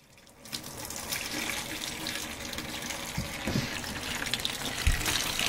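Caravan Alde heating fluid gushes steadily out of a hose into a bucket, a continuous close splashing rush with a few knocks partway through.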